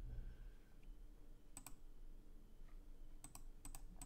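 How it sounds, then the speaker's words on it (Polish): A computer mouse clicks during an online chess speedrun, faint sharp clicks in a pair and then a quick cluster, over a quiet room hum with no talk. "Sorry, trochę klikam za dużo."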